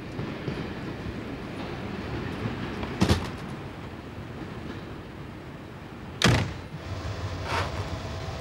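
An intercity train sets off on its journey, a steady low rumble of carriage and track noise punctuated by two sharp metallic clunks or door bangs and a fainter knock near the end.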